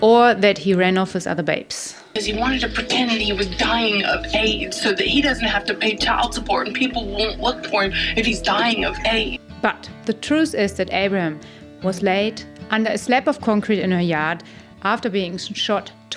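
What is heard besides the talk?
None of the usual background noises is heard.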